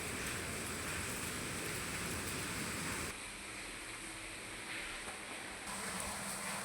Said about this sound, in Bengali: চারিদিকে শুধুই বৃষ্টি